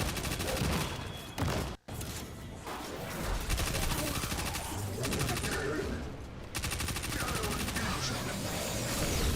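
Rapid SMG fire in Destiny 2, dense bursts of automatic shots filling nearly the whole stretch, with two brief gaps where the firing stops before resuming just as loud.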